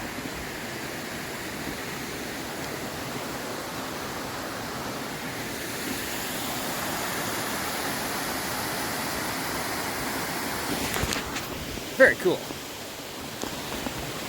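Madeline Creek, a mountain creek along the North Fork Skokomish in Olympic National Park, gives a steady broadband rush of flowing water throughout, with a brief spoken remark and a few handling bumps near the end.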